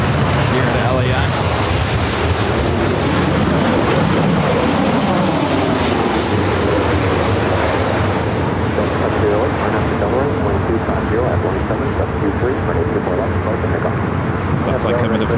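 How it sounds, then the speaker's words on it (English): An Airbus A350-1000 jet at LAX airport gives off a steady loud engine roar that stays constant throughout, with people talking over it. "Could we say the one of many A350-1000s here at LAX?"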